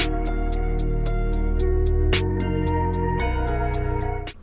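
Dark hip-hop beat programmed with randomized note velocities: a deep, booming bass line under a steady, evenly spaced hi-hat pattern and a sharp snare hit, loud and alone.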